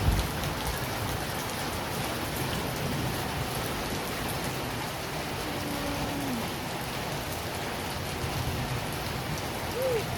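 Steady rain pours down on a house and its windows, a dense even hiss of drops with no break, close and fairly loud throughout.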